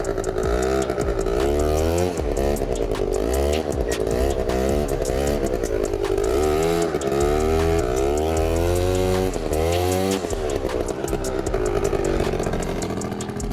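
A quad bike's engine revs hard and continuously through repeated wheelie attempts on a grassy yard, its pitch sweeping up and down with throttle changes, loud and close throughout.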